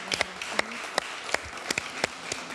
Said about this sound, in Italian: Questo è l'applauso